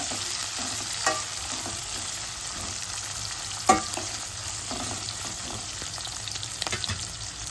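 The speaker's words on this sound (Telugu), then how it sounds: "ఉల్లిగడ్డలు మంచిగా నూనెలు అయితే ఉడికించుకోవాలి" Onions with green chillies and curry leaves fry in oil in a pan, a steady close sizzle broken by a few clinks and scrapes of stirring.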